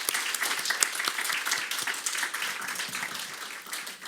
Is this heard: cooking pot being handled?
no